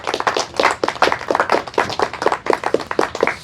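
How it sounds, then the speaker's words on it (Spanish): A church congregation claps in unison during a worship service, producing a brisk, rhythmic run of sharp hand claps that stays loud and even throughout, with no talking. "Denle un aplauso al Señor."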